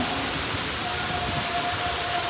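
Steady rain pours down around the Dwarkadhish temple in Dwarka, a dense, even hiss that runs unbroken throughout, close and fairly loud, with a faint tonal hum beneath it.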